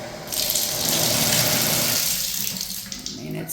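Water runs steadily from a used shower faucet in a house's bathroom, a broad continuous hiss of flow that stays close and fairly loud throughout, with no talking.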